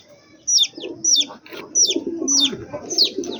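Newly hatched incubator chicks give a series of sharp, high peeping calls in regular bursts, close and clear over a low, soft background murmur.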